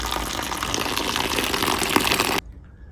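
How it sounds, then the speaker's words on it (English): Water pours into a potting soil mix in a pot, a steady, splashing gush that runs for a couple of seconds and then stops abruptly, leaving near silence. "let's get some water in there"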